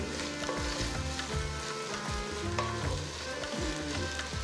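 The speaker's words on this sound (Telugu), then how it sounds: "అల్లం వెల్లుల్లి పేస్ట్ వేస్తే చేయి మీద పడుతుంది" Ginger garlic paste, about a teaspoon, frying in hot oil in a pan for bagara rice and baingan, giving a steady loud sizzle with crackles and stirring clatter throughout, no voices.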